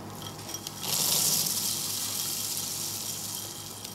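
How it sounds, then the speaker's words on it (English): Dried beans pour into a parchment-lined, unbaked pie shell for a chocolate tart, a dense rattling rush that rises sharply after a quiet start and keeps streaming steadily to the end, close and fairly loud. "now we're going to add the beans"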